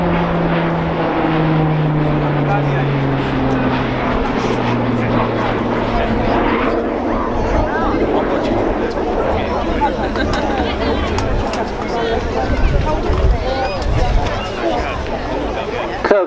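An RAF Tucano turboprop trainer flies a display at Dunsfold Wings & Wheels, its propeller drone shifting in pitch as it manoeuvres, loud and continuous throughout with a commentator talking over it.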